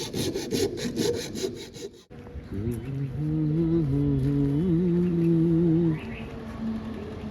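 A handsaw rasps through wood in a carpentry setting, with rapid rhythmic strokes at first, then a sharp break and a sustained rubbing, grinding tone held for several seconds, close and loud.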